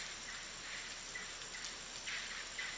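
Rain falling during a storm in the Amazon, a faint, soft, even patter of drops with slight swells, with no voices present.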